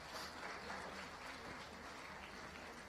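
An audience at a live grand finale of a junior team competition gives a final round of applause for the teams, a faint, steady wash of clapping throughout.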